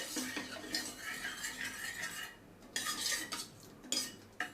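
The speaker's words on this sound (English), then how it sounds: "I'm lightly mashing the chana dal." Cooked chana dal is lightly mashed inside a pressure cooker with a utensil, making soft, quiet scraping, knocking and clinking in irregular bursts.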